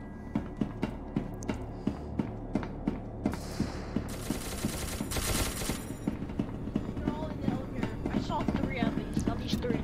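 In the multiplayer shooter SCP: Secret Laboratory, a couple of rapid automatic gunfire bursts crackle from somewhere in the level over a steady rhythm of in-game footsteps, while players talk over voice chat.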